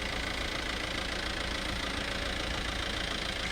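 Steady engine hum of an inspection vehicle moving slowly past stalls at a Republic Day parade, a constant, even drone with no change in pitch, moderately loud and alone.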